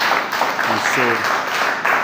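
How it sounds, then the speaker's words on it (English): Pastors applaud at a Lutheran church pastoral conference in Liberia, giving a short burst of clapping while a voice speaks over it. "we received a round of applause from pastors"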